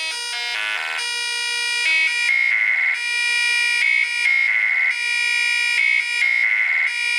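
A bright, piercing tone from a SeM20 eurorack synthesizer module plays a repeating alternating pattern through a high-pass filter, thin and buzzy with the low end cut away, loud and continuous.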